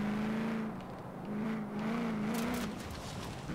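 A supercharged 7-litre car engine drives on steadily in Forza Horizon 4, humming with a constant wavering drone that rises and dips slightly, with no talk over it.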